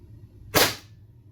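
One sharp, close crack from a stock BB pistol fired through a chronograph, a quick bright snap over a low steady hum, with quiet before and after.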